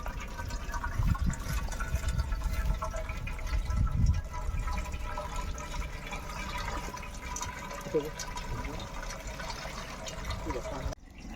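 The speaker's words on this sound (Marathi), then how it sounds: "तांदूळ मांडण्यासाठी पाणी टाकलाय गंजामध्ये" Water poured into a large cooking pot for rice, a continuous splashing, filling gush close by, heavy at first and then steadier as it continues.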